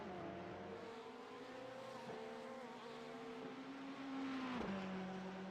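A Ferrari GT race car in a GTD race series drives on track, its steady engine drone holding a continuous tone that climbs slightly before a sharp gear change near the end, loud and alone without voices.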